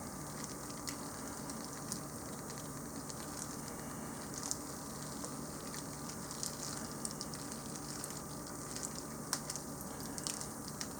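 Lasagna soup ingredients are broken up and mixed in a pot, producing a steady, soft sizzling and squishing bed with faint scattered ticks of the utensil throughout, no voices.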